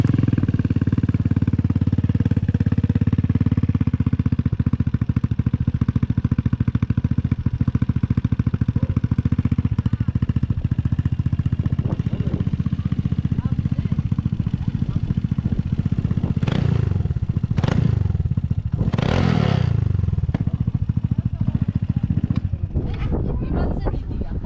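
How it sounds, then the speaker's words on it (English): Royal Alloy GP300 S scooter fitted with a full Scorpion exhaust system, its engine droning steadily and loudly up close, then a few sharp revs and throttle blips near the end. "As I told you, this scooter has full system Scorpion exhaust."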